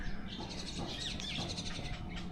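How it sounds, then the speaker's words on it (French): Birds chirping around a lake in Putrajaya, a quick series of bright, repeated tweets at moderate distance over a soft steady background, no voices. "il y a des oiseaux partout, hein, on les entend"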